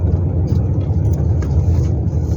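A car engine revs on a village road in rural Thailand, a loud steady rumbling drone filling the whole moment, with a voice speaking over it.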